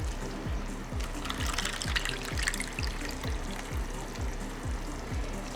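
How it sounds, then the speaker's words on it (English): Water poured from a packet into a cooking pot makes a steady liquid trickle and splash, close and continuous, over a regular low rhythmic thumping hum in the background. "I just filled the packet with some water, and I'm just going to pour that in."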